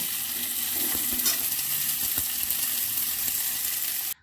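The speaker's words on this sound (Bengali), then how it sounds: "ভালো করে পটল আলুগুলো ভেজে আমি তুলে রাখবো।" Pointed gourd and potatoes frying in oil give a steady, close sizzle with a few soft stirring knocks, then cut off abruptly at the end.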